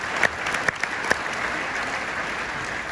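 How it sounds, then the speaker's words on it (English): A conference audience at a wealth-building event gives sustained applause, a steady wash of many hands clapping with a few sharper claps standing out early on, continuing evenly throughout. "give our entire team a round of applause for putting this together"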